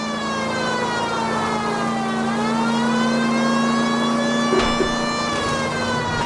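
Cars tear through an illegal street race in the LA Noire VR video game, engines holding a loud, steady droning roar with whining harmonics that bend gently up and down, plus a couple of brief knocks near the end.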